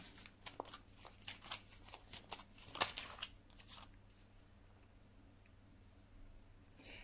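A tarot deck is shuffled by hand for a love reading, giving quick close riffling and flicking card sounds for about three seconds before falling to a quiet room hush.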